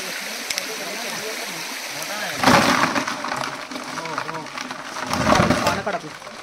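Monsoon creek water flows and gurgles steadily, with louder splashing surges in two bursts midway and near the end, while people talk nearby.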